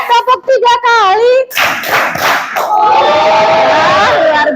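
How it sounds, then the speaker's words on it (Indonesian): Students in a classroom ice-breaking game clap in short bursts, and a group shout rises with them. A teacher's voice comes first, and the class is loud and close. "Tepuk 1 kali. Tepuk 2 kali. Tepuk 3 kali."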